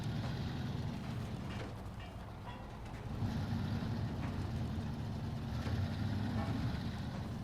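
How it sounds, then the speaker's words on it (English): A heavy truck hauling a load of metal beams in the SnowRunner video game rumbles on with a low, steady engine drone that grows louder partway through, with faint rattles and no talk. "having this load of metal beams on there sounds different than when you've got bricks or something on there"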